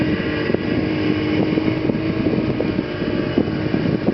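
Small boat's outboard engine running on shallow water, a steady close drone with wind buffeting the microphone and a few bumps and knocks.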